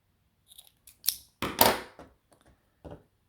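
Scissors snip through a crochet cord for a mini backpack bag in a few quick, close, crisp cuts separated by short pauses in an otherwise quiet room.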